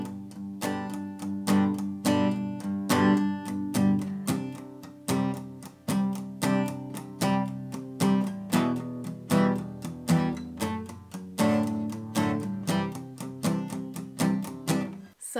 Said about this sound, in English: she will do some palm muting, and that's going to sound like this.